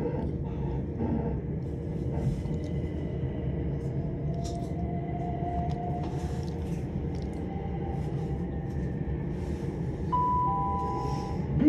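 A Southern passenger service to Brighton rolls between stations near East Worthing, heard from inside coach 7 of 8 as a steady low rumble with a faint rising motor whine and a brief tonal chime near the end.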